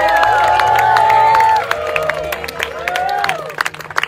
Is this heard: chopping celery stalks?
no